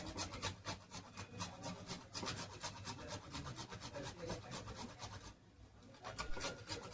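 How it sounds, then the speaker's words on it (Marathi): Nutmeg rubbed against a grater for sweet modak filling, a quiet, rapid series of rasping scrapes in steady rhythm, close by with no talking. "त्याच्यामुळे आपण थोडं जायफळ त्याच्यामध्ये किसून टाकूया"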